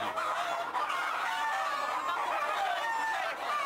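Native chickens on a farm raise a dense, continuous chorus of clucking and crowing, steady and fairly loud throughout with no talk.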